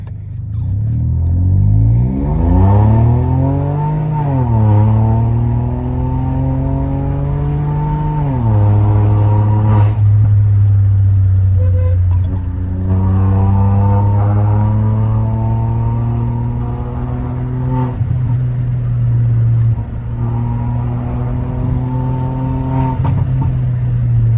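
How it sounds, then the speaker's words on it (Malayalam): A VW Polo GT TSI with a full system exhaust and Venom Performance tune, in sports mode with traction control off, revs and accelerates hard through several gears, its loud, steady engine drone rising and dropping with each shift, alone without voices. "അപ്പോൾ നമ്മൾ ഈ വണ്ടി ഒന്ന് ജസ്റ്റ് ഒന്ന് സ്പോർട്സ് മോഡിലിട്ടിട്ട് ഒന്ന് ഫുൾ ത്രൂ എടുക്കാൻ വേണ്ടി പോവാണ്"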